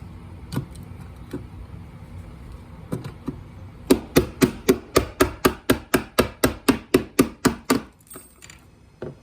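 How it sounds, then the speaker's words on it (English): A chisel prying a connector off scrap electronics: a few scattered taps, then a fast run of about fifteen sharp, evenly spaced metallic knocks, close and loud, before a softer rattle at the end. "I'm going to take my chisel once again, and I'm just going to lift that whole connector off of there."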